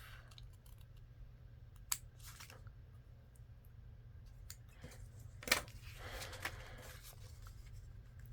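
Scissors trim paper for an expandable journal pocket, giving a couple of short, crisp snips against a quiet room background, with faint handling rustles in between.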